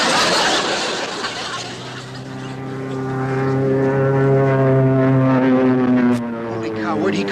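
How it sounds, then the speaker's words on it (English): Propeller-driven enemy airplane passing overhead, a loud droning engine hum that swells and holds steady across the whole stretch. "Hey, enemy plane! Take cover!"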